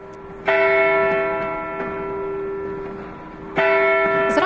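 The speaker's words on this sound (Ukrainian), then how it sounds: "Зранку у християнських церквах Швейцарії лунали дзвони" Church bells ring out in Switzerland, two loud struck peals with long ringing hum decaying between them, heard alone without voices.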